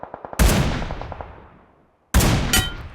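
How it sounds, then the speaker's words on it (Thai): Gunfire in the PUBG Mobile shooter game: a quick burst of shots, then a loud report that rings out and fades to near silence, followed by another heavy shot and echoing tail. "ข้างล่างยิงมาจากไหนวะ"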